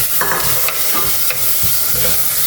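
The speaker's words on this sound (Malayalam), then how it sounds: "ഇനി നമുക്ക് തക്കാളി ചേർക്കാം." Tomatoes are added to onions frying in a pan for a Kerala-style mathi (sardine) curry, giving a steady sizzle with a few soft stirring scrapes, close and alone.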